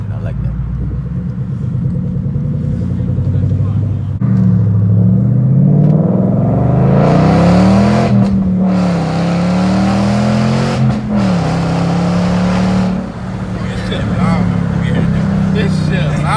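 A Ford Mustang 5.0 GT with its resonator deleted revs loudly and close, its raspy exhaust rising and falling through several throttle blips over a steady idle rumble.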